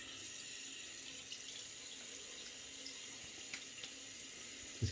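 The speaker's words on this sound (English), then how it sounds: "I turned my water over, turn it over to cold." Cold water runs steadily from a tap into a sink as a close, even rush that holds for about five seconds, with a small clunk right at the end and no voices.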